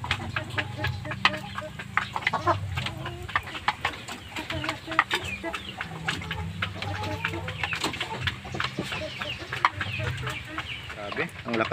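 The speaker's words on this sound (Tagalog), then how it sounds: "Nagpapadulo pala yung alagang manok natin na puti." A white pet hen clucks in short, repeated bursts at close range, with other bird calls scattered through a steady low farmyard hum.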